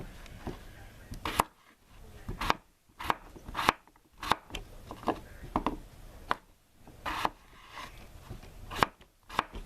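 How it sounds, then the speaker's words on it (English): Whole unpeeled yellow gold potatoes being cut with a knife on a board, making a dozen or so crisp chopping knocks at an uneven rhythm, close and fairly quiet. "So I'm going to cut up my potatoes"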